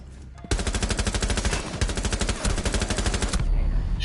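Rapid automatic gunfire in Rainbow Six Siege, a loud close burst of sharp rhythmic shots starting abruptly and hammering continuously for about three seconds before cutting off, with no talk over it.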